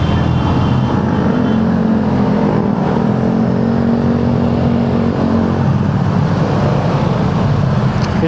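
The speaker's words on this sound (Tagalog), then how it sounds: "Yun, medyo traffic." Congested road traffic rides close around a three-year-old Yamaha XMAX300 scooter, with a loud, constant engine and road drone that continues without a break.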